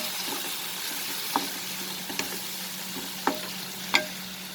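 Spices frying in a pan with a splash of water added, a low steady sizzle broken by four sharp spoon clinks or scrapes spaced about a second apart, close by.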